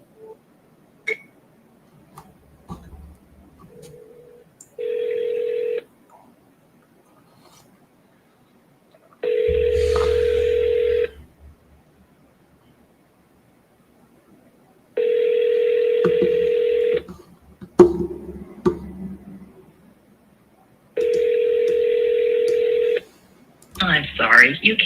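Telephone keypad tones for a phone call, bursts of dialing beeps separated by pauses, with brief talk and clicks in between.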